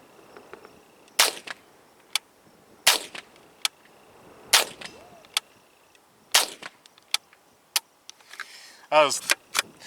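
Gunshots ring out at a steel plate target outdoors: about half a dozen sharp, loud cracks spaced a second or two apart, each followed by a faint metallic ping and short echo, with some handling clatter between shots.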